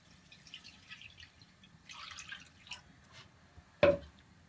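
Water poured into a hot pan after browning beef to lift the stuck-on bits, a single short splash and hiss near the end, with faint kitchen clatter before it.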